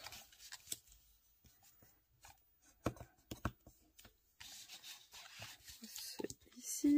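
Paper for a baby album is pressed and rubbed along its fold lines, making soft, uneven scraping and brushing strokes with a few sharper taps between quiet gaps, heard up close.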